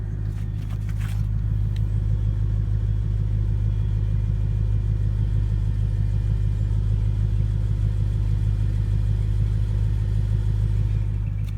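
A BMW M3 with its stock exhaust idles steadily and quietly after warming up, a smooth low rumble held without revving, close by and alone apart from a couple of faint clicks at the start.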